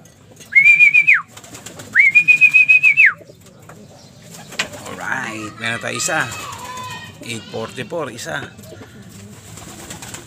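Homing pigeons arriving at a loft in Meycauayan, Bulacan during a race toss, preceded by two short, sharp whistle-like calls, then soft cooing and scuffling under someone talking nearby.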